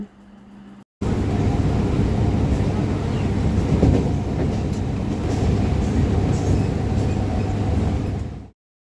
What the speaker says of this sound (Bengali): হাওড়া থেকে বর্ধমানগামী ট্রেন ধরে এখন আমরা যাচ্ছি বর্ধমান